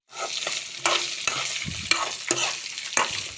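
Ridge gourd pieces sizzle steadily in hot tempered oil in a pan while a utensil stirs and scrapes in repeated strokes, close by with no talking.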